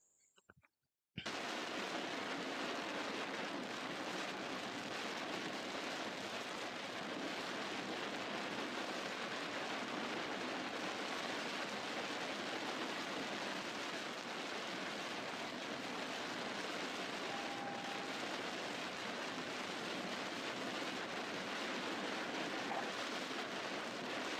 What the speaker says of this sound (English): it's mainly just rain. Mainly just rain and loud driving noises